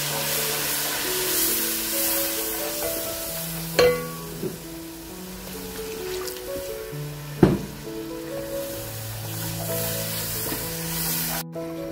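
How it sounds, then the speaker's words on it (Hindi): Spices with red chili, turmeric, cumin and salt fry in a pan as kadhi pakora masala is made, a steady close sizzle with occasional stirring knocks, under soft background music. "ये देखिए मसाले को हमने अच्छा सा भून लिया।"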